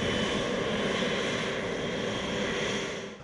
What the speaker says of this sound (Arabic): طائرة من السعودية لإغاثة منكوبي السيول والفيضانات تصل السودان